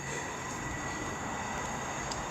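A West Midlands Railway train bound for Four Oaks from Bromsgrove runs over points at Barnt Green on the Cross-City and Lickey line, giving a steady, fairly quiet rolling rumble with a high flange whine held throughout.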